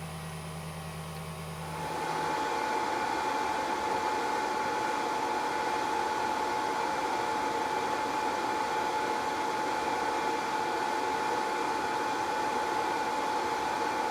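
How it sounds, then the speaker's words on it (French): A BGA rework station heats to reflow the GPU solder balls on a MacBook Pro. After a short quiet start, a steady blower-like hiss with a faint whine switches on and runs evenly. "j'ai juste appuyé sur le bouton du coup de soudure. Et elle va se lancer."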